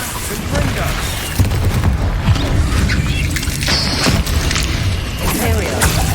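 Confringo blasting spell in Hogwarts Legacy, loud repeated booming blasts and crashing impacts in a busy combat mix, with a voice speaking over the action.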